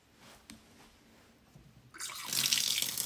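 Water runs from a tap in an abandoned house. A few faint knocks and rustles come first, then a steady, fairly close rushing stream starts about two thirds of the way in and continues to the end.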